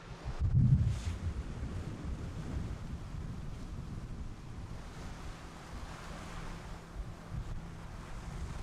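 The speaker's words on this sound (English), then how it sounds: "the wind must be blowing" Strong wind buffets a boat cruising past Cape Fanshawe in Alaska's winter, in gusts of around 42 knots, a steady roaring rush mixed with surf-like wash, with a louder thump near the start.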